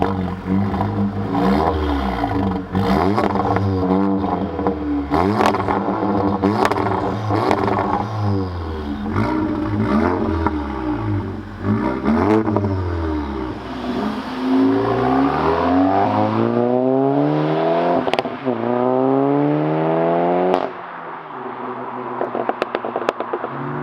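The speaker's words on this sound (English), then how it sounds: "That exhaust sounds amazing, doesn't it?" A stage 3 tuned VW Golf GTI Clubsport S MK7 exhaust roars loudly up close while driving, with repeated revs climbing and falling through gear changes and sharp snaps between pulls, no talking.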